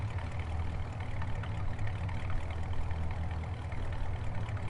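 A steady, deep engine drone from a John Deere 9RT tractor in a farming video game, an even low rumble with layered harmonic hum that stays constant and unbroken, with no speech.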